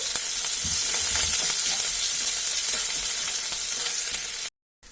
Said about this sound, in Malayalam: അതാ കറിവേപ്പില ഇട്ട് കൊടുത്ത് നന്നായി ഒന്ന് വഴറ്റിയെടുക്കണേ.